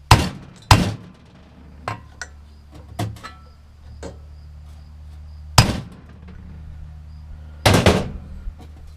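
A hammer strikes a seized part on a Honda self-propelled mower several times, with sharp, irregular metallic blows standing out against quiet background hum.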